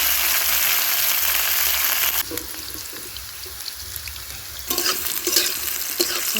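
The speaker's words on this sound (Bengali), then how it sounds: "ভালো করে লাল লাল করে ভেজে নিতে হবে" Bitter gourd pieces sizzle in hot oil for a Bengali shukto, a steady, loud broadband crackle with stirring, easing briefly in the middle before the spitting returns stronger.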